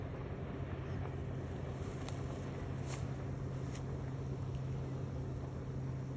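A police patrol boat cruising on the Dnipro river, its engine a steady, distant low drone that continues without a break, mixed with wind rush and open-air background noise.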